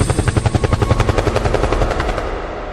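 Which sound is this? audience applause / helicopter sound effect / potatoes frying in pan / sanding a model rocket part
helicopter sound effect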